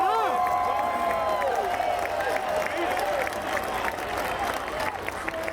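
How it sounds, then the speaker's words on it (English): A large crowd at the 2023 NFL Draft applauds, cheers and whistles loudly and continuously for a Make-A-Wish pick announcement, with voices mixed into the roar. "I'd like all of you to join me in cheering on Kyle as his wish comes true."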